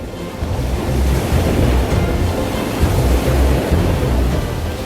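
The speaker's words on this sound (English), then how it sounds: "The timid waves lapping over the passive shores is so refreshing." Sea waves wash and lap steadily onto an empty sandy beach at Bakkhali, a continuous loud surf roar with rolling swells and some wind noise, with no voices.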